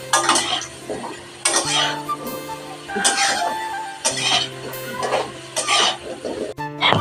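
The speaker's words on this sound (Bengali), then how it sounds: "ওটাই এখন আলুটা ভাজছি" Potatoes frying in a pan over a boiler-type stove, with bursts of spatula scraping and clattering against the metal pan repeating every second or so, close up, over a faint sizzle.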